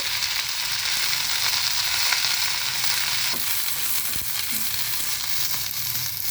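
Drumstick leaves dry-roasting in a pan for munagaku karam podi, a steady dry crackling sizzle with faint stirring scrapes throughout, close and alone with no voices.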